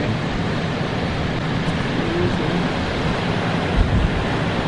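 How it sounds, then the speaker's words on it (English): Big waves on a lake crash against a pier under a cold, strong wind, a steady loud broadband roar of surf and wind buffeting with a slightly heavier surge near the end; no talking. "Look at the waves, you guys. The lake is angry."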